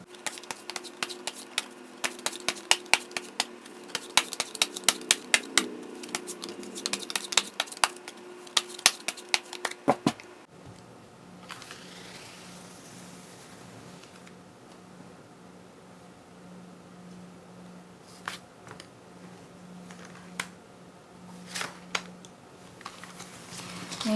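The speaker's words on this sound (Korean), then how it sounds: "저는 카드를 뽑아보도록 하겠습니다" Tarot cards are drawn and shuffled with crisp papery clicks and flicks, quick and dense at first, then sparse soft handling over a low steady hum, close up and with no speech.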